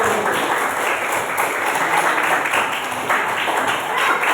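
A classroom group claps together after a Quran recitation during a teaching performance assessment, a steady, dense patter of hands that holds at an even loudness throughout.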